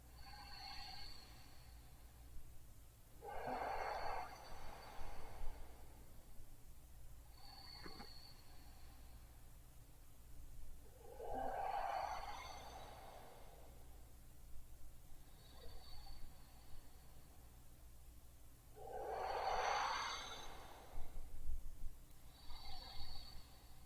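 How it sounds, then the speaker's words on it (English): Slow, deep breaths during an advanced yoga posture flow, three long airy inhales or exhales spaced several seconds apart over a quiet room hum, fairly close and soft. "take some deep breaths"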